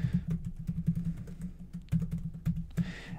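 Close, rapid clicking of keys on a computer keyboard as someone types code, with short bursts separated by brief pauses.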